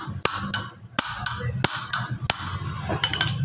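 A hammer strikes the crankshaft bolt on a Honda PH16 engine during a timing belt installation. Several sharp metallic blows land up close at an uneven pace, each with a short ring.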